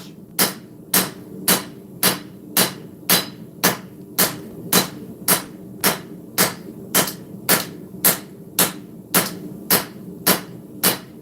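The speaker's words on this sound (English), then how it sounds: "Anybody else want to come swing a almost 4-pound hammer that much?" Almost 4-pound hammer striking hot steel while forging a cleaver, about twenty sharp, evenly spaced ringing blows in a steady rhythm, loud and close, with no voices.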